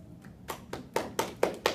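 A short run of hand claps, about six sharp, evenly spaced claps that grow slightly louder, close and alone without talk.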